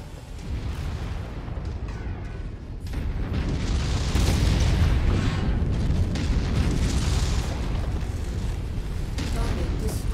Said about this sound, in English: Heavy rifle shot.